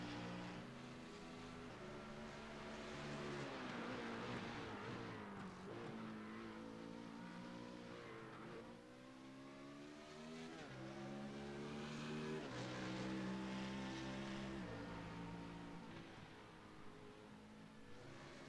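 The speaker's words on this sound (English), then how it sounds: "Neri to move up into podium contention in the bright pink BMW, scoring some major points for his team here today in the final moments of this feature event at Sonoma" Race cars, including a bright pink BMW, racing at Sonoma in the final moments of a Legacy Sports Car Series feature event; loud, continuous engine roar with rising and falling revs as cars accelerate and pass, no talk.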